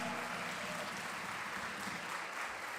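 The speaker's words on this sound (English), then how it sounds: "Let's give him a round of applause." Sustained applause from an audience welcoming a guest at an event with the Chicago Immigrant Orchestra: dense, steady clapping that fills the whole stretch without a break.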